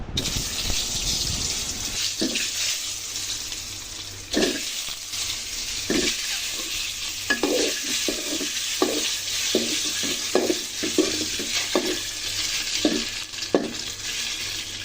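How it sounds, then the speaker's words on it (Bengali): Eggs frying in hot oil in a pan: a loud continuous sizzle with repeated spatula scrapes and stirring clatter through most of the stretch, close up and without voices. "ডিম রান্না করার জন্য ডিমগুলো ভেজে নিচ্ছি"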